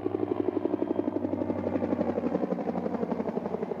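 A helicopter's rotor beats in a steady rapid chop, a close and continuous throbbing with an engine hum underneath.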